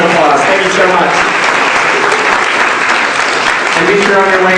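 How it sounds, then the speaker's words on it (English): Loud, sustained round of applause from a lecture audience at a Leadership Speakers Bureau event, many hands clapping densely and evenly throughout, with a voice speaking over it. "Let's give this reader a big round of applause."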